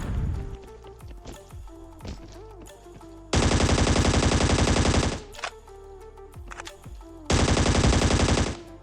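Two long, loud bursts of rapid automatic gunfire from the battle royale game ScarFall 2.0 on the Andaman map, separated by quieter stretches of scattered single shots and in-game sound effects.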